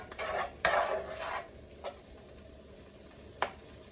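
Ramen noodles fry in butter in a pan with a soft, quiet sizzle, broken by a few scraping stirs and light clinks of a utensil against the pan.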